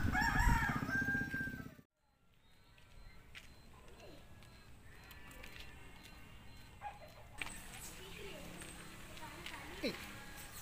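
A rooster crows loudly and close at the start, then fades into quieter outdoor background noise with distant bird calls and light clatter.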